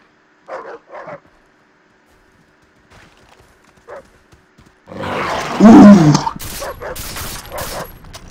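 Dog barking in the Far Cry 3 video game: a couple of short barks, a few quieter ones, then a loud growling snarl and burst of aggressive barks close up.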